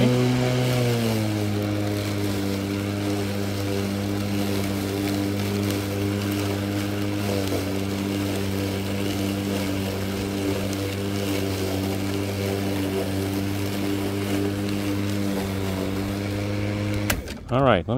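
A Greenworks 40V 16-inch battery lawn mower runs with a steady, close electric motor hum that holds an even pitch after a slight shift at the start, ending with a brief clatter.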